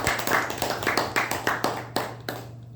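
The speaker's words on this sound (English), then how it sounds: "Can we have a big round of applause for the speaker and evaluator?" An audience at a Toastmasters club meeting claps for the speaker and evaluator, a short burst of applause with distinct individual claps from a small room that fades out after about two and a half seconds.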